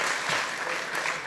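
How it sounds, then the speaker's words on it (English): Brief, dense applause from a keynote audience at a sports ethics and leadership summit, loud and continuous throughout with no pauses. "Big round of applause once again"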